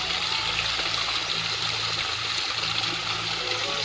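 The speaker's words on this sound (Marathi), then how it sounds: "या गोमुखातून सतत निरंतर पाणी चालू आहे" Cold water pours without pause from a stone cow-mouth spout at a sacred spring on the Narmada riverbank, a steady close rushing splash with continuous trickling and gurgling, loud and unbroken.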